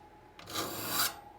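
A metal file rasps against the teeth of a crosscut saw being sharpened, with one steady stroke of about a second that rises and fades in a quiet shop.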